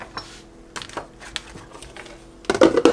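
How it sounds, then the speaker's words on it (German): Three tablespoons of almond flakes shifting and rattling in a dry, fat-free pan with sparse light clicks and scrapes, then a louder burst of stirring at the end. "Pfanne ohne Fett und werde mir die kurz anrösten."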